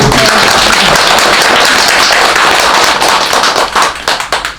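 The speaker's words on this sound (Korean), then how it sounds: "박수 한번" Congregation at a Sunday Buddhist temple service clapping loudly and close by, a dense round of sharp claps that thins into scattered, separate claps near the end.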